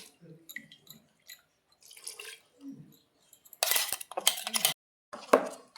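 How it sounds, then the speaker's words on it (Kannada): Glass pickle jar for mango pickle being washed in heavy salt water, with sloshing, clinks and knocks that come in short bursts after quieter handling noises. "ಈಗ ಜಾರನ್ನು ಅದರಲ್ಲೇ ತೊಳಿತಾ ಇದ್ದೀನಿ"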